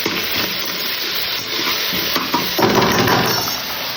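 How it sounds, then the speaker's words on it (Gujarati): Green garlic and onion sizzle and fry in a hot pan for a tuvar totha dish, a steady loud crackle with stirring scrapes that grows brighter toward the end, with no voices. "લીલું લસણ ડુંગળી સાથે નાખી દઈએ અમારે મસ્ત રીતે શેકાવા દઈ દઈએ"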